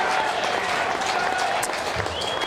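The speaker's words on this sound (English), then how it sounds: "You can sense it in their applause." Applause from a crowd at an Australian football match in the SANFL, Glenelg against South, rolls on steadily from a distance, broad and sustained, with faint whistles and cheers mixed in.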